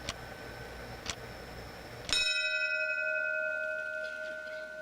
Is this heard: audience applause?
no